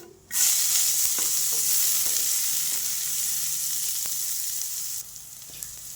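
Chopped onions hit hot oil with chana dal for pori upma, a sudden loud sizzle that keeps frying steadily for several seconds before easing slightly.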